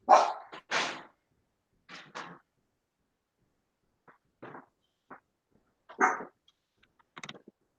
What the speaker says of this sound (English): Believe it or not, it's a Jack Russell Chihuahua.